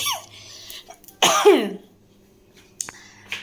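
A person with a cough gives a short harsh cough, then a louder throaty cough burst, followed by quieter throat sounds, close up in a quiet kitchen.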